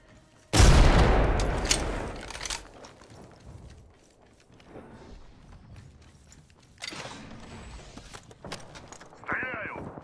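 Gunfire in the game Apex Legends: a loud burst opening the stretch, then scattered shots and reload-like mechanical clicks, with speech mixed in at times.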